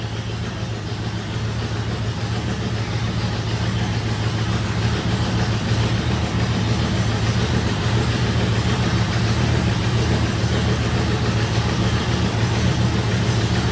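A bare test engine with no cooling system runs steadily and loudly, producing a dense, continuous mechanical drone with a low rumble and a faint rattle mixed in.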